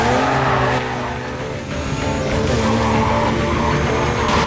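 A Mazda RX-7 drives hard through Need for Speed: Carbon, its engine droning loudly and steadily while tires squeal and skid through the turns, with no talk over it.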